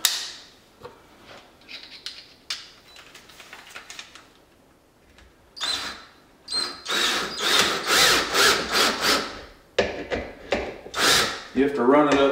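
A power drill drives a lag bolt into wood for a removable stair rail, loud close whirring bursts that start, stop and strain, after lighter clicks and handling at the start.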